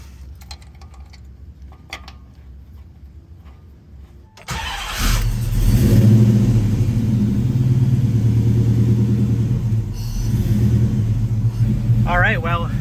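A Hemi-swapped Toyota cranks and catches after a quiet stretch, then settles into a loud, steady mid-pitched idle rumble that runs close up to the end, with people talking under it.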